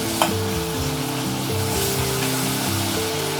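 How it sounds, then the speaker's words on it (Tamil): Tomatoes sauté in a hot pan with a continuous close frying sizzle and bubbling, steady and loud throughout, with one brief utensil tap near the start and no talking. "பாருங்கள் எவ்வளோ சீக்கிரம் வதங்கிடுச்சு பார்த்தீங்களா தக்காளி பழம்"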